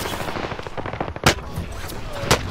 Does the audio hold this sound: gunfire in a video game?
yes